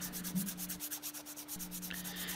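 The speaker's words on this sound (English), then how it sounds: "I put some 400 grit on my sanding block and just did a little final smoothing here" Steady back-and-forth rasping of a sanding block with 400-grit paper rubbed over a wooden knife handle for final smoothing, close and rhythmic, with no talking.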